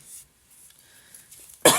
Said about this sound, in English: I woke up and I'm like kind of coughing this morning